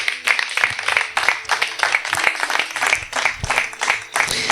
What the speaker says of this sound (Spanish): Dale un aplauso a Yeshua HaMashiach por siempre y para siempre.